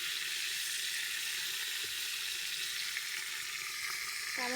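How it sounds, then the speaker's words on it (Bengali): Fish frying in a pan in a home kitchen produces a continuous, even sizzle held close and at moderate loudness, with a few faint tonal clinks near the end and no talk. "মাছটা ভাজছি।"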